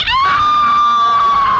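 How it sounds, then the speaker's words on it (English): A long, high, sustained scream rings out loudly and steadily, heard on its own as part of a ghost story being told. "And from the room upstairs, they heard the scream."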